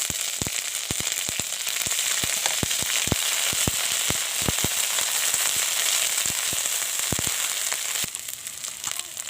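Onion paste fries loudly in hot oil with green chillies in a pan, a dense steady sizzle with frequent sharp pops and crackles scattered throughout.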